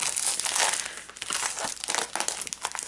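Plastic packaging around a paper collection crinkles and crackles continuously as it is opened, loud and close, with irregular sharp rustles.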